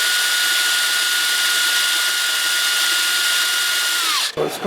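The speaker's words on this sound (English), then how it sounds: "I'm going to have to drill it out" A power drill whines steadily and loudly, drilling out a broken water pump bolt on a 1975 Evinrude 40 hp outboard, then spins down and stops near the end.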